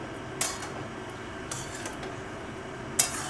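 Bottle gourd peel fry with potato being stirred with turmeric and salt in a pan, giving three sparse metallic scrapes and clinks of a utensil against the pan over a quiet background hiss, with no voices.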